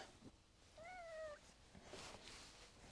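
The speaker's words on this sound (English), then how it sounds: "sorry about my cat" A domestic cat gives a single drawn-out meow that wavers in pitch, fairly close and clear, over a faint room hiss with soft handling sounds before and after.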